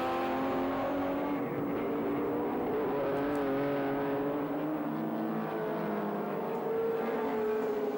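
Touring cars race at Sandown in 1984, engines droning and revving continuously at a moderate distance, with overlapping pitches as the cars pass, and no speech.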